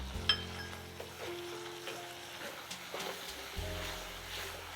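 Chopped onions and very finely chopped tomatoes sizzle softly in a pan for a Goan prawn caldine, a gentle steady frying crackle with occasional stirring scrapes, heard close and alone.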